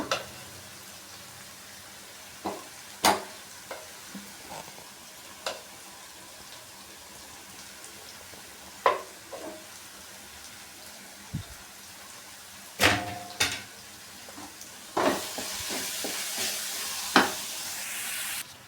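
Hot cooked rice being stirred and mixed in a pan for Udupi-style coconut mustard rice, with soft scraping and a few sharp spoon knocks against the pan over a faint sizzle, plus a brief louder rustle near the end.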